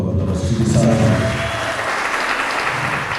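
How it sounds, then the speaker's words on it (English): Applause breaks out at an International Human Rights Day event, a steady wash of clapping from the audience with tonal music or a voice lingering underneath at first before the clapping carries on alone. "Let us give another round of applause to the side."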